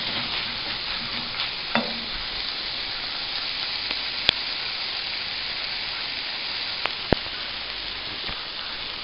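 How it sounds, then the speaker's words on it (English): An eggplant mixture sizzles steadily in a hot pan, a constant close hiss like light rain, broken by a few faint clicks and scrapes while it cooks untouched. "I'm going to allow it to cook with whatever heat is there on the pan"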